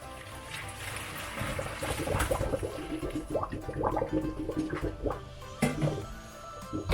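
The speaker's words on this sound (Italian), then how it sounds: "Passato questo tempo, scoliamo i noodles." Cooked rice noodles drain through a colander, water splashing and trickling away in uneven gushes that rise and fall, close by and fairly quiet, with no talking.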